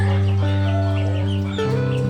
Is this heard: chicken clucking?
yes